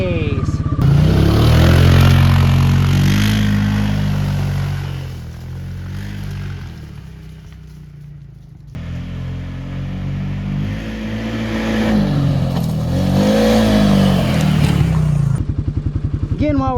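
The engine of a 2024 Can-Am Outlander Pro HD7 ATV in sport mode and two-wheel drive revs and rises in pitch as it climbs a hill. It is loud and close, swells and falls in repeated surges with a brief dip midway, and a rider talks over it.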